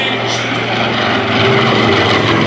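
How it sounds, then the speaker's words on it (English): Piston engines of the Delaware Aviation Museum's B-25 Mitchell bomber Panchito roaring loudly at a 2023 West Virginia airshow, a dense continuous propeller drone with rough throb, steady and close, with a voice talking over it. "From the right, Delaware Aviation Museum's B-25"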